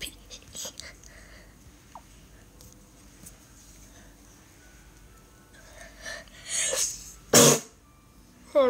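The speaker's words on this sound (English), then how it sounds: "Just sneezed." A single sneeze bursts out near the end after a quiet stretch, preceded by a couple of louder breathy sounds.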